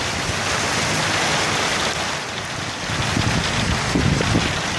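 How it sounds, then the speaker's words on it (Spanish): Heavy summer rain falls on a rooftop in Siloé, a dense, steady hiss with gusts of wind noise and no talking. "Fuerte lluvia empieza a caer acá en Siloé."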